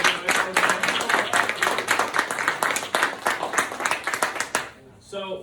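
An audience at an elementary school ceremony claps for students completing a mentoring program, steady loud applause lasting several seconds before it fades out.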